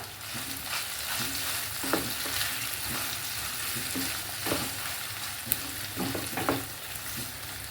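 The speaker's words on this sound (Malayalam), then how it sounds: "എന്നിട്ട് നന്നായിട്ടൊന്ന് ഇളക്കിയതിന് ശേഷം നമുക്ക് ഒന്ന് അടച്ച് വെച്ച് കൊടുക്കാം" Onions and ginger frying in a pan, with a steady loud sizzle throughout and occasional scraping knocks as a spoon stirs them, no voice present.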